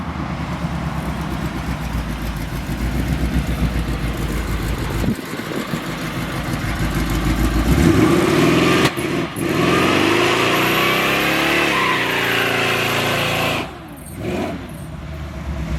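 Car at a big-rim street car meet, engine roaring and revving hard as it spins, rising in pitch to a loud sustained howl with brief dips, close and dominant with no clear talking.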